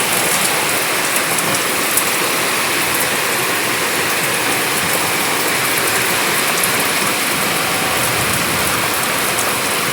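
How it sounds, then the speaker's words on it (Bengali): Heavy rain pours down in a dense, steady hiss of drops striking surfaces, loud and unbroken throughout with no talk. "দেখো ভীষণ বৃষ্টি হচ্ছে, ভীষণ মানে ভীষণ।"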